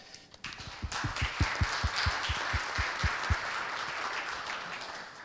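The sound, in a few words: audience applause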